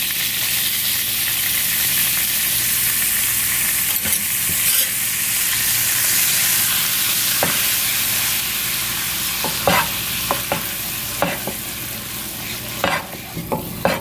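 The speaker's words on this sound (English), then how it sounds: "I'm going to go ahead and add in the flour for us to make the roux" Flour cooking in hot grease for a chicken, sausage and seafood gumbo roux makes a long, even sizzling hiss, nearby and unbroken, punctuated by scattered scraping clicks of stirring, with no voices.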